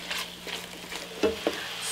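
Beef chunks fry in a pot for a stew with a soft, continuous sizzle, a couple of brief stirring clinks rising above the low, close crackle.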